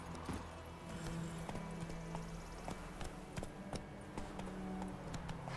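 Roach the horse in The Witcher 3 gallops with quick, quiet clip-clop hoofbeats in an even running rhythm, faint and close, with no talk.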